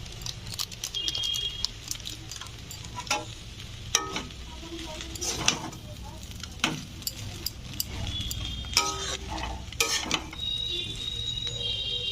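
Egg chicken Maggi noodles stirred in a pan with masala added, a steady frying sizzle under repeated scraping and clinking of a spoon against the pan, close by with no talk.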